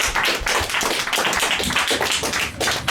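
An audience claps in a show-of-hands vote at a fan panel event, a dense, sustained round of many hands clapping close by with no talking over it.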